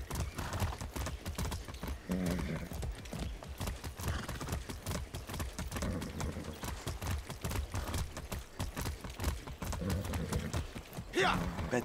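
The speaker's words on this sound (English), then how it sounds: "We're just riding horse." Horse hooves clip-clop steadily in the video game Far Cry 6, with occasional whinnies over a continuous game soundscape and some talk.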